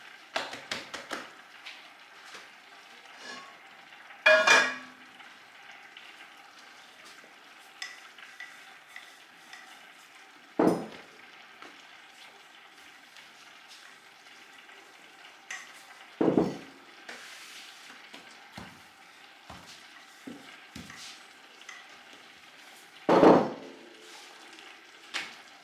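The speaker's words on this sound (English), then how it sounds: "I'm going to make a naan bread in very, very hot cast iron pan" Naan bread cooks in a very hot cast iron pan with a low, steady sizzle, broken by four sharp taps or clatters of handling spaced several seconds apart.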